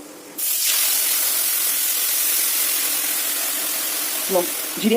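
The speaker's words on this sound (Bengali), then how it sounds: "তেলটা গরম করে ওর মধ্যে জিরে আর গরম মশলা করে দিয়েছি।" Cumin and garam masala hit hot oil in a home kitchen, erupting into a loud, sustained sizzling hiss that holds steady throughout, with a brief voice at the end.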